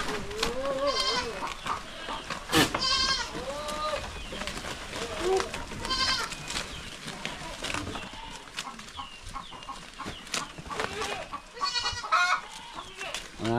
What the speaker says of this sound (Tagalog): Yung mga kambing natin oh.